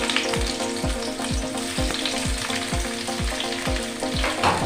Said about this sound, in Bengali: পেঁয়াজটাকে একটু ভাজা ভাজা করে নেব।